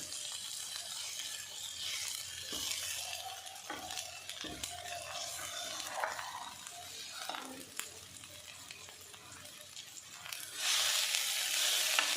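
Green chillies shallow-fry in a pan with a continuous sizzle, broken by stirring scrapes and clacks, and the sizzling swells louder near the end. No one speaks.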